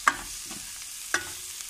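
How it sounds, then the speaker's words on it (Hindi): Spices and potato with beans sizzle in a pan while a spoon scrapes and stirs, two clear strokes over a steady close frying hiss. "और इनको थोड़ा सा मिला लेंगे, इनको पकाना है थोड़ा सा"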